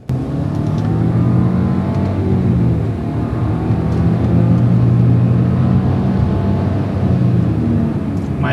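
A 2012 Audi A4 TFSI accelerating through its gears, a loud steady engine drone heard from inside the car with rising pitch between shifts, continuous and close with faint road rumble beneath.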